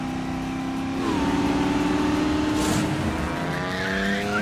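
Race cars speeding in Trails Through Daybreak 2, engines whining at high pitch with rising revs as one car closes in, tires squealing and skidding briefly midway, loud and continuous with no talking.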